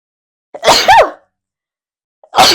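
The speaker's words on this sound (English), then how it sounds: "3 sneezes" Two loud, close sneezes, the first a sharp burst ending in a brief vocal whoop, the second starting after a pause with a faint preceding inhale.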